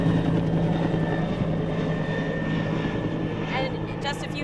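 Firefighting helicopters hover overhead at the Clover wildfire, their engine and rotor drone forming a steady loud roar that stays close and constant throughout, with a reporter speaking over it.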